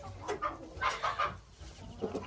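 Chickens and a rooster cluck in a pen, a series of soft, scattered clucks and short calls at close range.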